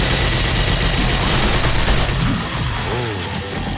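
Rapid bursts of automatic gunfire crackle continuously in the zombie survival video game 7 Days to Die during co-op play, loud and dense throughout, fading slightly toward the end.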